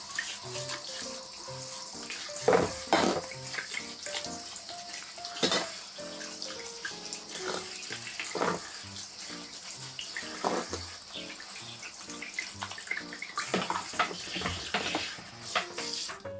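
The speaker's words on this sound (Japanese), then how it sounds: "シャワーをバスタブの方に持っていきまして、穴から流していきます" Running water from a shower splashing into a bathtub and rinsing down the drain hole after cleaning with Domestos bleach, a steady rush with occasional louder splashes and clunks, no voices.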